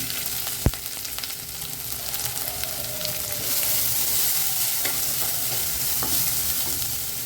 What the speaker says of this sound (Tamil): இந்த கேரட்டை வந்து இதிலே போட்டு ஒரு வதக்க வதக்கலாம்